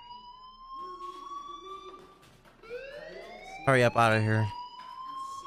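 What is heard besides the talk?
fire alarm ringing in the video game Life is Strange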